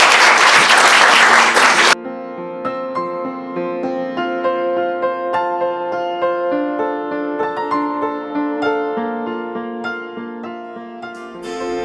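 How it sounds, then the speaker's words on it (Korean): An audience at a Korean book talk applauds in a short, dense burst of clapping that stops abruptly, giving way to music. "수고하셨다고 박수 한번."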